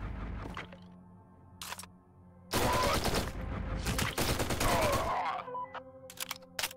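Rifle gunfire in the shooter game Forgive Me Father 2: a few sharp isolated shots, then a long loud spell of rapid continuous firing, ending in scattered bursts with tonal game sounds between them.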